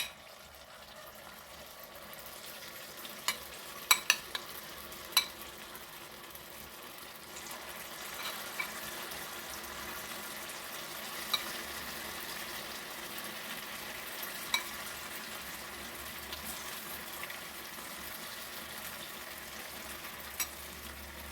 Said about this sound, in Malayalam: ഇനി നമുക്കത് 5 മിനിറ്റ് വെച്ചിട്ട് ഫ്രൈ ചെയ്തെടുക്കാം